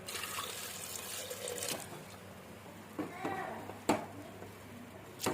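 Water poured from a vessel onto washed lentils with chopped tomato and a little turmeric in a pressure cooker for sambar, a soft continuous splashing pour with a few brief clinks, fairly quiet in a home kitchen.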